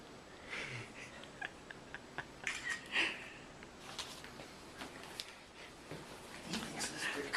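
A cat explores a newly installed indoor cat wall, with soft purring and small movement sounds. Scattered clicks and shuffling footsteps come and go over a low room background, and faint voices are heard.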